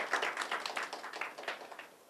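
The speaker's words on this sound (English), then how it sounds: "let's have a round of applause for the panelists over here" Audience applause for three student panelists at a college counseling panel, a dense, steady patter of many hands clapping close by for about two seconds, fading slightly at the end.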